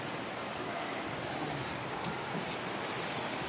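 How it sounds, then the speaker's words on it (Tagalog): Steady broadband hiss of rain falling, continuous and even, with a few faint taps on top. "Tagal-tagal mo inantay yung ulan"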